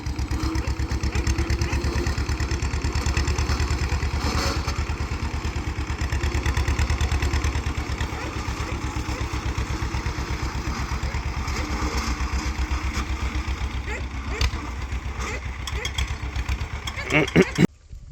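A tractor engine runs steadily nearby with a low, throbbing idle, holding constant throughout with a few clanks near the end.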